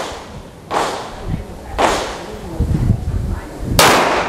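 Three sharp, loud gunshots from a Taurus PT92AF-D 9mm-style pistol ring out at uneven intervals, each a close crack followed by a brief decay, with faint low movement sounds between shots.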